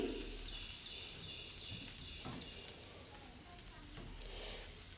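A leftover-rice breakfast pancake sizzles steadily in a pan after being flipped, a constant close frying hiss throughout with only faint background sounds.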